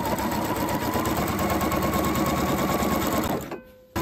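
A sewing machine stitches the hem of a light viscose circle skirt in a steady, loud, continuous hum that stops abruptly near the end.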